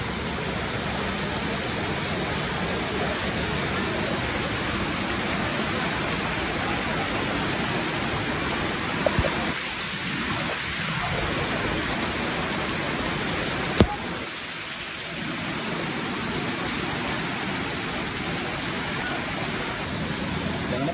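Floodwater from Typhoon Carina rushes into a house with a constant, dense roar of moving water that holds steady throughout, broken by a couple of sharp knocks and no speech.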